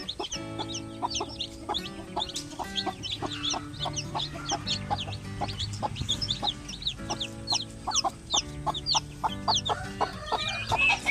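Rhode Island Red chicks hatched under a native hen cluck and cheep in a dense, overlapping chorus, close and steady throughout with no talk.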